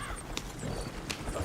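Horses gallop in Red Dead Redemption 2, giving a quick run of hoof clip-clops over a steady game-world background, moderately close.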